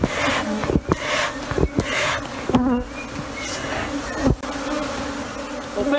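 Africanized honey bees from a rescued swarm in Paraty, Brazil buzz steadily and close, a dense humming swarm with a few louder passes and light knocks underneath.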